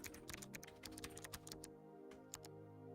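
Rapid typing on a computer keyboard, a quick run of close, soft clicking keystrokes that thins out toward the end, heard over a steady background hum.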